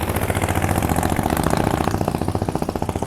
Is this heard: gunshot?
no